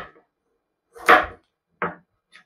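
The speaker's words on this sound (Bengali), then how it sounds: "গাজরটা ওই রকম লম্বা লম্বা কেটে নেব" A knife cutting carrot into long pieces on a board, three separate chops with silence between them, each one close and crisp, the middle one the loudest, followed by a faint final tap.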